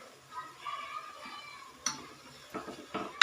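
A pan of chicken gravy with tomato puree being stirred, soft scraping with a few sharp spoon clinks against the pan over a faint sizzle, close and fairly quiet.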